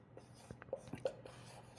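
Pen strokes scratching out a handwritten definition on paper, soft intermittent scrapes and taps at close range, with faint breathy sound between them.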